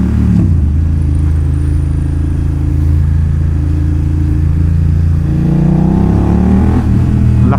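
BMW F900R motorcycle engine revving up under acceleration, a steady loud drone that climbs in pitch toward the end, close and continuous with no talk.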